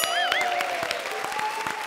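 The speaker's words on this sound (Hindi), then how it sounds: "हमारे शो पर जोरदार तालियां।" Studio audience applause on a televised comedy show, continuous clapping layered under a sustained musical tone with a swooping sound effect.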